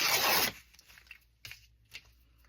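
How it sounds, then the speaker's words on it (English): Scissors cut through the fabric hem of an Amazon envelope, opening with a loud close tearing rustle and followed by two short crisp snips in quiet surroundings. "cut off this hem,"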